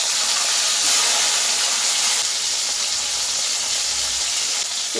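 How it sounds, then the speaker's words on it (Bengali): Bitter gourd fries in hot oil with a continuous, even sizzling hiss that stays steady and fairly loud throughout. "এই করলাটাকে সবার প্রথমে আমি ভেজে নিচ্ছি"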